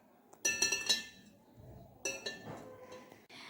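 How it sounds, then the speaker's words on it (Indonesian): Glass clinks as an upside-down funnel holding hydrilla is set onto a glass jar, two clusters of bright, close ringing knocks with small rattles between them. "Dan letakkan corong tersebut secara terbalik pada"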